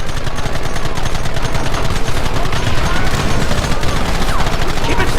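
Dense, rapid gunfire rattles continuously in the Red Dead Redemption video game, loud and relentless like machine-gun bursts with no breaks.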